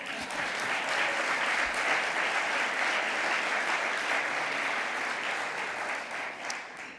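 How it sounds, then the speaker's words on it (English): An audience at a medical school awards ceremony claps steadily and evenly for about seven seconds, the applause fading slightly toward the end. "How about some applause for that?"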